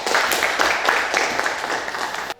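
Applause from students in a classroom during a lesson: a burst of clapping from many hands, fairly close and steady, running for a couple of seconds before cutting off abruptly.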